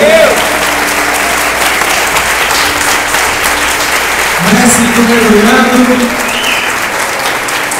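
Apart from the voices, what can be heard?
congregation applause in church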